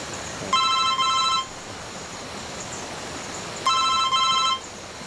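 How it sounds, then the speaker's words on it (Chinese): A telephone rings twice with electronic trilling bursts, each about a second long, separated by a few seconds of quiet. "老板，电话。"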